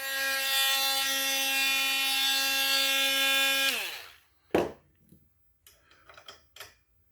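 An electric drill whirs steadily at high speed for several seconds while modifying a Bucktool sander and grinder, then winds down and stops, followed by a sharp clunk and a few light handling sounds.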